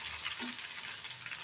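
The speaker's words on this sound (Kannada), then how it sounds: "ಒಂದು ನಾಲ್ಕು ಹಸಿಮೆಣಸಿನಕಾಯಿ ಹಾಕೊಂಡ್ತಾ ಇದ್ದೀನಿ, ಒಂದು ಎರಡು ರೆಡ್ ಚಿಲ್ಲಿ ಹಾಕೊಂಡಿದ್ದೀನಿ" Green and red chilies fry in a pan, giving a soft, steady sizzle heard close and quiet with no voices.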